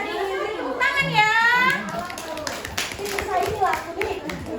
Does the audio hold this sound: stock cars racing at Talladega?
no